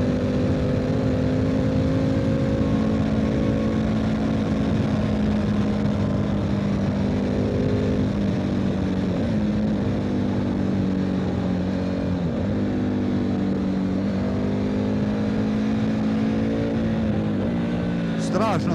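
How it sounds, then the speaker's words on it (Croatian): A 2024 Triumph Tiger 900 GT Pro motorcycle on the road gives a steady engine drone with shifting pitch as it accelerates and eases off, under loud wind rush, with a rider talking over it. "Strašno se ovaj motor vozi."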